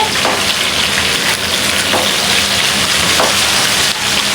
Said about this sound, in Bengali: এখানে কিন্তু চিকেন আর আলুটা ভালো করে ভেজে নেওয়া হয়েছে